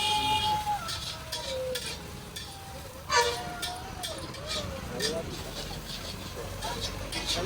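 Vegetables sautéing in a pan, with bell peppers and tomatoes going in, give a steady frying hiss with clinks of stirring, while a voice talks over it throughout.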